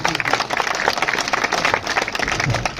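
Crowd at an outdoor village gathering in Shikrawan, Mewat, breaking into steady applause, dense clapping from many hands held at an even level for about three seconds with faint voices mixed in.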